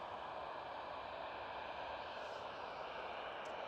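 A SkyTeam airliner at Schiphol airport, Amsterdam, gives a steady, even jet roar that holds without a break at moderate loudness throughout.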